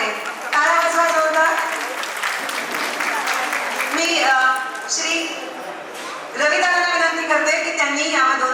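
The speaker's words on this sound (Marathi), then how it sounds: "टाळ्या वाजवा जोरदार" An audience at a Mangalagaur community gathering claps in a sustained burst of applause, mixed with talking voices over it throughout, the clapping swelling again near the end.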